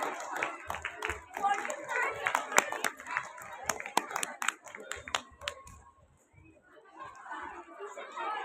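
A school audience at a New Year prize-giving claps in scattered bursts of sharp hand claps mixed with crowd chatter and children's voices, thinning to a quieter stretch before picking up again.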